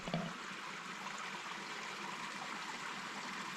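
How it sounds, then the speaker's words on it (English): Steady running water, a continuous broadband rush like a nearby stream flowing, constant and unbroken with no voices. "Just the sound of running water."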